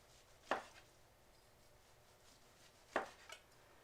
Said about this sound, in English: And then just start slicing your sushi.